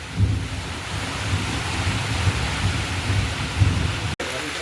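Low thunder rumbles steadily under a dense wash of rain in rural Sundarbans, West Bengal, a deep rolling roar that swells and fades without a break.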